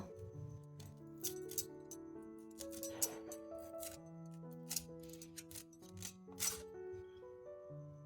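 A knife cuts raw tamarind pods into small pieces for pickle, making crisp, irregular cutting snaps and clicks over steady background music.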